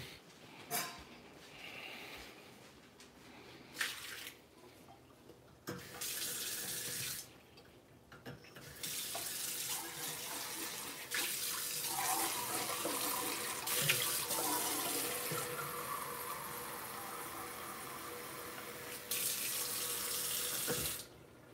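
A tap runs water into a sink in long, steady hissing streams, switching on and off several times, close and moderately loud, with a few brief pauses between flows.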